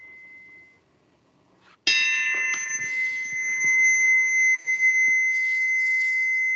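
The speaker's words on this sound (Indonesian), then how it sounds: "bunyi dari 2100 Hz adalah kayak gini" A 2100 Hz sine test tone plays from a computer, faint at first, then a loud, sustained pure whistle that holds steady for several seconds with a few soft knocks underneath.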